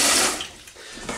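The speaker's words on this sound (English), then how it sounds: "When I'm rinsing, I use tap water" Tap water pours loudly and steadily into a sink while lentils are rinsed for tarka daal, then eases slightly toward the end, with no talking.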